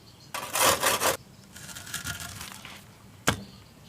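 Saw grinding through stone in two rough rasping bursts, the first loud and close, the second softer, followed by a single sharp knock; no voices.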